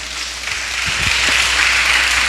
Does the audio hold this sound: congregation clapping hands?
yes